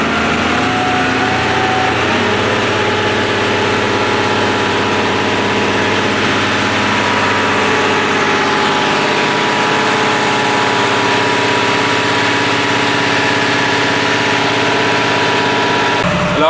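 A Case CS150 tractor engine runs on a test bench at a constant speed, loud and close, a continuous mechanical drone with a high whine and no voices.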